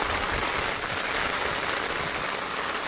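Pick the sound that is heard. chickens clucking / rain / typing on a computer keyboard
rain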